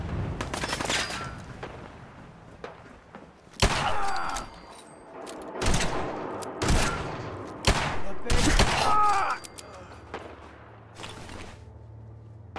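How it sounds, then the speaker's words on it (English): Enemy gunfire in Fallout 4, sharp shots and bursts cracking out in irregular clusters, loud and close, with quieter gaps between volleys. "who's shooting at me from up here?"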